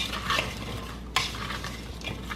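Salted cucumber slices for bread and butter pickles are stirred in a bowl, a close wet scraping and swishing with a sharp clack of the spoon against the side midway, no voices.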